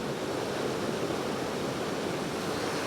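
A waterfall and river in Glen Etive, Scotland, give a constant broad rush of flowing water, steady and moderately distant, with no voices.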